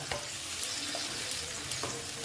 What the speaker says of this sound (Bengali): আমি দেখো মশলাটা কষিয়ে নিচ্ছি দেখো কষিয়ে নিচ্ছি